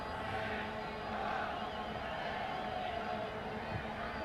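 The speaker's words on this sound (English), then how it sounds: "you can sort of hear the crowd noise beginning to mount a little bit here as well" Crowd at a Gold Cup soccer match between Canada and South Korea makes a steady, moderately loud wash of murmuring and shouts, with faint commentary running over it.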